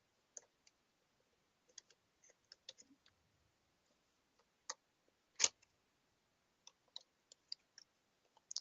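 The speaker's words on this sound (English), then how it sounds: "This is where we need the scissors because everything is taped." Scissors snip and slice through packaging tape while unboxing a Nikon D5600 camera. The result is a series of quiet, sparse clicks and ticks, with one louder crisp cut near the middle.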